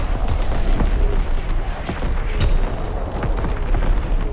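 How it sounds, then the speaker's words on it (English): An enemy artillery barrage pounds a Call of Duty WW2 multiplayer battlefield, deep repeated booms and scattered blasts rumbling continuously, with bursts of gunfire mixed in. "Incoming enemy artillery! Get to cover!"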